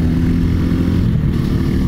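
A Mutt Motorcycles DRK motorcycle engine while riding, heard from the rider's position as a steady, loud, low drone at cruising revs with a constant rumble and no variation.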